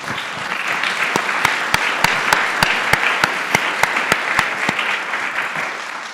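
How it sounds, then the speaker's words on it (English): A conference audience at the Transform Westside Summit gives a round of applause, steady dense clapping over about six seconds with a few sharp, regularly spaced louder claps standing out near the front. "maybe we just give him a welcome round of applause again"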